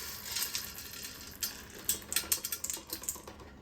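Roasted coffee beans poured into a frying pan, hard little grains rattling and clattering in a quick, irregular stream, fairly faint, with sharper bursts toward the end.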